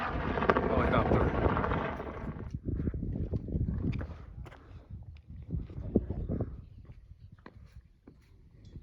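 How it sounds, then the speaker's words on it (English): Helicopter flying over Badlands National Park, a rough thudding rotor roar that is loud at first and then fades into gusty, uneven rumbling with wind buffeting the microphone. "Helicopter."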